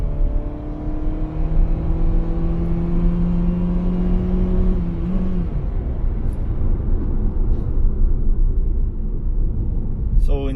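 A 2021 Mitsubishi Xpander Cross MPV accelerates from a standstill in drive, the engine droning louder and higher toward 6,000 RPM before easing off into road and wind rumble, recorded from inside the cabin.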